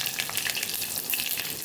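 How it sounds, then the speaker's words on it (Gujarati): Curry leaves dropped into hot oil for a potato curry, giving a dense, even sizzle with crackling bursts close up, heard alone with no voices. "મીઠા લીમડાના પાન ઉમેરી દઈશું"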